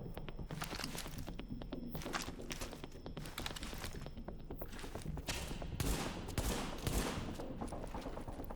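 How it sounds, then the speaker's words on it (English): Rapid 1911 pistol gunshots in the video game The Division ring out amid continuous combat noise, sharp cracks repeating in quick bursts over a dense, loud background of gunfire and impacts, with no talking. "Let's finish this last guy with our pistol here."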